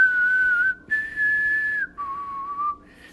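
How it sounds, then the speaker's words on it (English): Clear solo whistling of a simple melody, three sustained notes with short breaks between them, close to the mic and steady in volume. "I'm also going to try whistling a tune"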